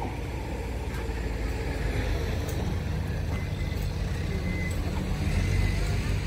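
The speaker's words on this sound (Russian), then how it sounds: "шумят трактора, вот на работы там идут, делают дорогу" Tractors doing road construction work near Karaburun rumble as a steady low engine drone throughout, a continuous heavy-machinery hum heard from some distance outdoors.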